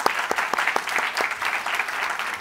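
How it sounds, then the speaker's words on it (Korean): A church congregation at a sermon applauds with dense, steady clapping that carries on evenly throughout, moderately loud with no voices over it. "박수 한번 주십시오."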